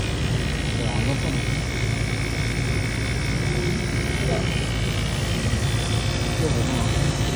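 Two vacuum pumps evacuating a commercial HVAC compressor after its replacement give off a steady, loud mechanical drone and hiss that runs unbroken throughout.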